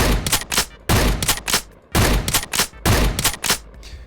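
Four loud, booming blasts from a realistic shotgun in a Minecraft mod, spaced about a second apart, each with a sharp crack and a short decaying tail.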